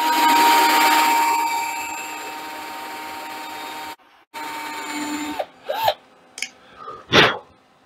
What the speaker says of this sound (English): take a drill that size and drill it first with that